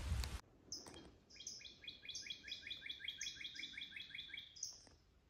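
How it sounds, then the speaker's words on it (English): Hooded warbler singing on a hot summer hike, a series of bright, rapid, repeated whistled notes rising and falling at a distance, faint against quiet outdoor background, preceded by a brief rustle. "If you hear that call back there, I don't know where he is, but that's a really cool bird. That's a hooded warbler."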